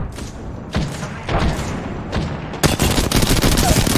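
Heavy gunfire and booming grenade explosions from Apex Legends come in loud, dense bursts with sharp impacts, building into continuous firing near the end.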